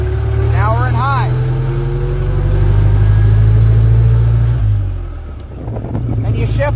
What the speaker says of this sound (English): Clutch out into high gear. Now we're in high.